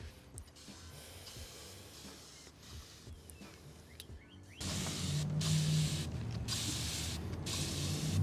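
Faint handling sounds give way to loud, rapid spritzes from a spray bottle onto a hoodie, repeated in short bursts close by.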